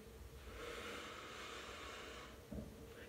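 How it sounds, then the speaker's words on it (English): Slow, deep breathing during a guided relaxation exercise: a long, soft airy inhale-exhale swelling across most of the stretch, with a brief sharper breath near the end, fairly quiet and close with no talking. "Deep breaths."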